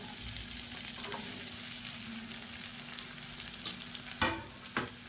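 Chopped okra sautéing in hot oil sizzles steadily in a pan, with a couple of sharp spoon clanks near the end.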